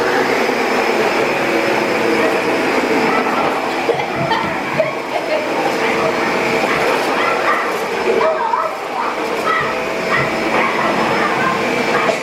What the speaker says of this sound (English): Okay, so Chloe hates the vacuum cleaner.